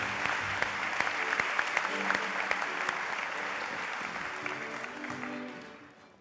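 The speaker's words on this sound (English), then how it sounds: "a warm applause for all four winners in the category Dedicated Service to Heritage" Audience applause for four award winners at the 2016 European Heritage Awards ceremony in Madrid, in the Dedicated Service to Heritage category: dense, steady clapping from a large hall crowd that holds strong, then tapers off at the end.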